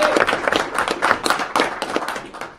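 Crowd applause for a business plan competition entrant, a brief burst of steady, fairly close clapping from many hands that holds its level before tapering off at the end.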